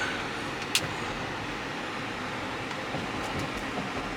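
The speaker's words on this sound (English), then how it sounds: "I'm taking my first ride in my truck since the issue that I had." Steady low rumble and road noise from inside a moving Range Rover SUV after a blown head gasket repair, with a brief sharp click near the start and no talking.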